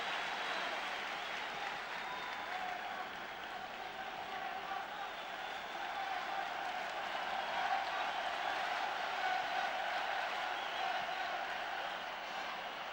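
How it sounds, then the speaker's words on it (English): Basketball crowd at a 1998 World Cup semi-final, Yugoslavia against Greece, cheering for Greece: a steady, fairly faint arena roar with sustained whistling and shouting, under a commentator's voice. "Crowd trying to get into it for Greece."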